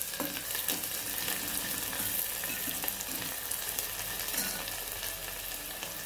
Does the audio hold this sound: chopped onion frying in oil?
yes